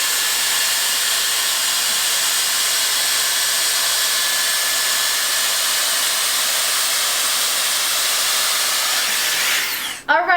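A Dyson Airstrait hair straightener blows air through hair with a steady, loud, close rush of airflow that holds for about ten seconds and then cuts off abruptly.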